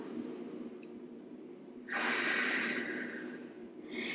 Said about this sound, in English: Big inhale through the nose, blow it all out through the mouth.